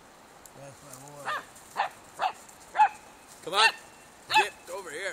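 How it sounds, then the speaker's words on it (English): A six-week-old Jamthund puppy barks outdoors on a hike: a series of about seven sharp, high yipping barks at an uneven rhythm, close by, and a man briefly calls to the dogs between them. "He's barking a moose there."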